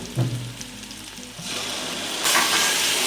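Chopped onion and tomato frying in a pan give a soft sizzle with light stirring at first, then the hiss swells and grows louder and brighter toward the end.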